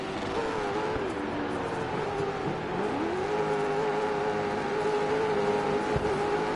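Race truck engine in DiRT 4 Land Rush racing, a continuous loud roar with shifting revs as it grinds through a corner, steady throughout with no talk.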